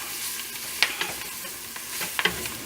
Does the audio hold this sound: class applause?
no